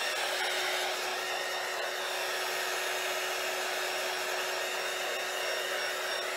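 Heat gun warming resin on a blue and copper table top, a steady blowing whir with a constant whine that runs unbroken and fairly loud throughout, with no voices.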